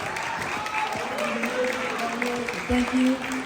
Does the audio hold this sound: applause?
yes